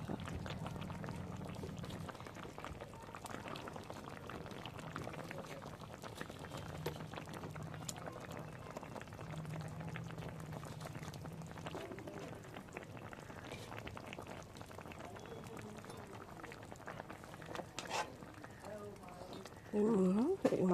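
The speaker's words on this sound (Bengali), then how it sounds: "তরকারিটা ফুটে গেছে" A curry of ridge gourd and rohu fish boils in a pot with a steady, soft bubbling that continues throughout. A brief clatter comes near the end.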